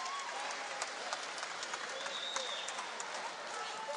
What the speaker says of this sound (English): the crowd is screaming for Medina